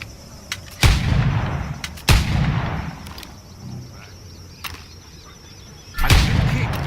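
Pistol shots from the Assassin's Creed IV Black Flag video game: three sharp, loud reports spaced a second or more apart, with a smaller crack between them, set over a low background ambience.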